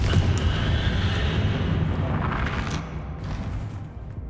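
Rumbling blasts and booms from fire and blasting spells in the video game Hogwarts Legacy, filling a loud, continuous spell-battle din with no speech.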